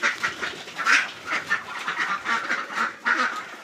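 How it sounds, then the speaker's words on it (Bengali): Several domestic ducks quack repeatedly in short nasal bursts, fairly close and steady throughout, while tethered indoors at a small farm. "এই কারণে হাঁসগুলো ঘরে বাঁধা আছে"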